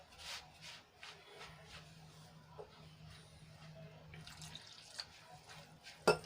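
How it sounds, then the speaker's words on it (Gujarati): Soft trickling and splashing of water being poured into batter, with faint clinks and a sharp knock near the end, fairly quiet and close. "અને બીજું જોઈતા પ્રમાણમાં આપણે પાણી એડ કરીશું"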